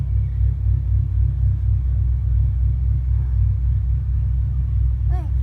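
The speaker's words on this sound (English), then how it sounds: "Oh, you hear a car? Yeah, that's somebody's truck." Somebody's truck passes outdoors, heard as a steady, fairly loud low rumble that holds throughout the few seconds with no clear approach or fade.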